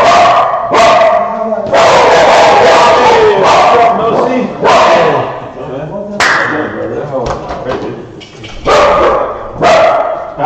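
Several dogs bark loudly and repeatedly at a live backgammon tournament, their barks overlapping with crowd chatter and nearby voices throughout.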